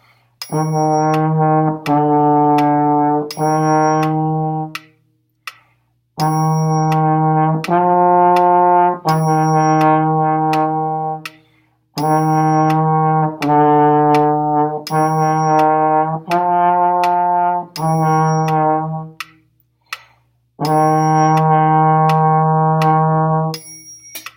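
A trombone plays a sight-reading exercise, a series of sustained notes and short phrases with brief pauses between them, close and fairly loud, no talking.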